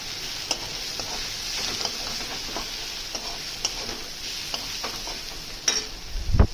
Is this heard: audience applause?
no